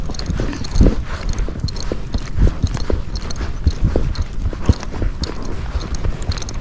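Hooves of a gaited Spotted Saddle Horse clip-clop steadily as it walks on a trail ridden alone, with close, uneven thuds over constant outdoor rustle.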